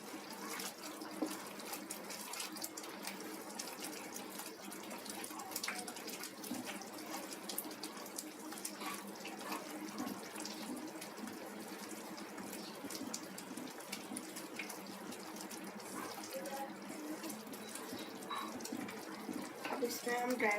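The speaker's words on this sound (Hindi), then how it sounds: "थोड़ी और उबलने की ज़रूरत है इसको।" Suji halwa boils in a pan with a soft, continuous bubbling and gurgling, faint and close, that goes on steadily for about twenty seconds.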